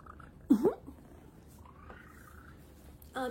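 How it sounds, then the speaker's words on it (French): A small kitten found by the roadside purrs as a faint, steady low rumble close by, broken by a couple of brief soft sounds. "Entendez-vous mon petit ronron?"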